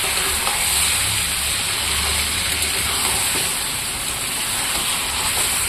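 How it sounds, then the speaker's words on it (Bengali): Bottle gourd chunks with a little salt and turmeric fry in a hot pan, giving a steady, dense sizzle that holds at an even level throughout with no talk over it. "এটা এখন লাল লাল করে ভাজবো। দেখুন বন্ধুরা লাউটা প্রায় ভাজা হয়ে গেছে"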